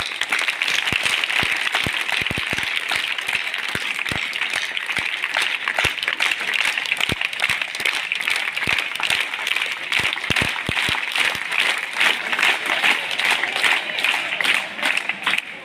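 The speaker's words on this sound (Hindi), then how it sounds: "तालियां" An audience at a talk on teachers and success breaks into applause, scattered sharp claps mixed with a broad hiss of clapping that runs for about fifteen seconds and swells slightly toward the end.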